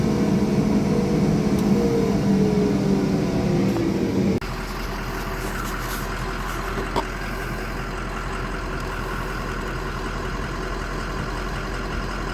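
A hydrostatic machine running at full throttle in reverse, creeping slowly, gives a steady, loud engine drone with a low hum throughout; the tone drops and becomes more constant after a few seconds.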